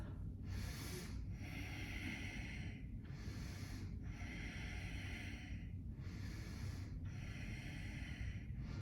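Steady, deep breathing held through a yoga pose: close, hissing inhales and exhales in a slow even rhythm, about three full cycles over a constant low background hum, with no talking.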